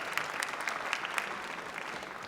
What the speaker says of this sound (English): So give them a big round of applause for taking this big leap.